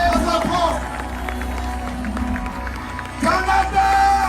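Big audience at a Kanguka gathering in Bujumbura cheering for children, a steady roar of voices and clapping that swells louder near the end.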